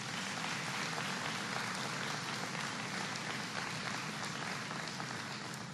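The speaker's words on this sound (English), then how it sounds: "Give them a big round of applause." Sustained audience applause at a live event where President Obama speaks, a dense, steady wash of many hands clapping from start to finish with no pauses.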